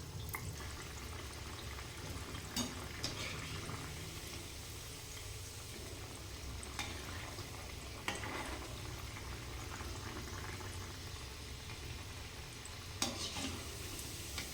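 Soft continuous frying sizzle of fasting potato patties in oil, close and low, with a few sharp clicks of a utensil against the pan and no voices.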